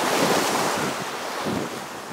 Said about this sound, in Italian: ma pian piano incominciamo a sentire le onde di mare lungo.